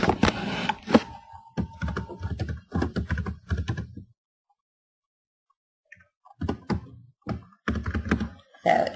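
Bursts of typing on a computer keyboard while a blog post is entered, dense clusters of key clicks separated by a short silent pause, close and fairly loud, with no talking over it.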